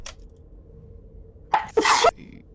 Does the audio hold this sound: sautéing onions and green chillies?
no